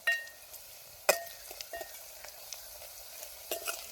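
Almonds go into a hot pan in a home kitchen, setting off a soft continuous sizzle with a sharp clink of a utensil and a few scattered stirring scrapes.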